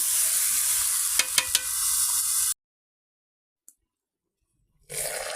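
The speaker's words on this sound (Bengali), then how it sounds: "তো এখন দিয়ে নেড়ে দিতে হবে" Broiler chicken and thick-cut potatoes sizzle steadily in a pan over a clay stove, with a few sharp scraping stirs, then the sound cuts to near silence before the frying hiss returns.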